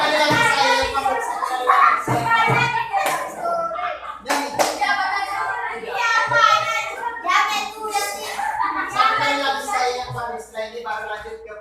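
Children clap a 'tepuk pagi' rhythm in a classroom: sharp, evenly spaced hand claps cut through a group of young voices chanting along, with a teacher's voice talking between the clap patterns.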